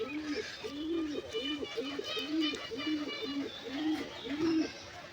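Giribaz pigeons coo in a steady, repeated rhythm, close by and fairly clear, with faint chirps and voices in the background.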